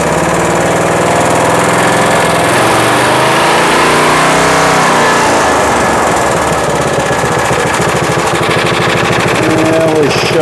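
Snapper lawn mower engine running loud and steady right after a carburetor cleaning, a close, rough, continuous mechanical drone with some revving variation.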